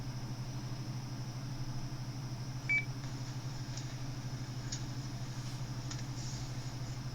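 A Zello CB radio repeater gives a single short, clear beep over a constant low electronic hum, with a few faint clicks afterward.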